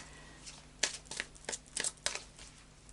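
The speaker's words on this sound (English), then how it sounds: "So I'll just do a final shuffle now of the Moonology cards" A deck of cards being shuffled up close, a series of quick riffling snaps and flutters, no talking.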